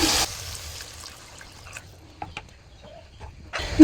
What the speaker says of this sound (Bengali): যেহেতু পাবদা মাছের ঝোল করব, সেহেতু ঝোলটা আমি একটু বেশি দেব, পাতলা ঝোল হবে।